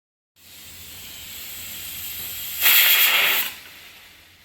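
A pressure cooker on a stove lets out a single bright burst of steam hiss lasting under a second, over a faint steady background hiss.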